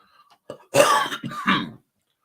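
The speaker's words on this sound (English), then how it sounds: "my cough of doom has returned on a minor scale" A person coughs and clears their throat in two or three harsh, close bursts.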